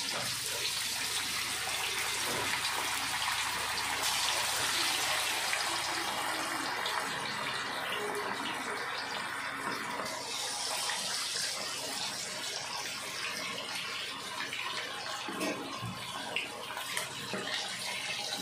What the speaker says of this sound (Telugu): దీన్ని మనము కాగుతున్నటువంటి నూనెలోకి మనము ఇప్పుడు డీప్ ఫ్రై చేసుకుందాము